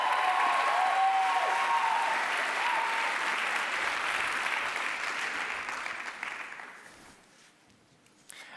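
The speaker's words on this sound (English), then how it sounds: "Can we get a round of applause?" An audience at a team's final presentations breaks into loud, sustained applause, a dense wash of clapping that holds steady for several seconds before tapering off and fading near the end.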